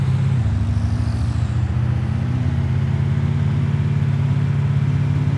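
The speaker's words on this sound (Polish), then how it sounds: "bo strasznie głośno mam te samochody." A loud, steady car engine drones and hums continuously in the survival video game Taora: Survival, with a slight rise in pitch early on, like a game vehicle holding speed.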